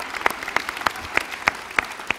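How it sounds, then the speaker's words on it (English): Scattered clapping from a church congregation for a couple married 65 years, a few sparse, distinct claps spread across a couple of seconds, fairly quiet. "That, even more applause for them, please."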